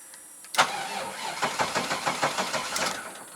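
The rotary engine of an abandoned Mazda RX-7 FC catches with a sudden burst after a quiet moment, then settles into a rough, pulsing idle close by.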